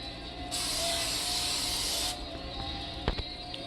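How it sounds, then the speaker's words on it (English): Cooking spray hisses onto a pan in one continuous burst of about one and a half seconds, close by, followed by a couple of light clicks. "Spray my pan."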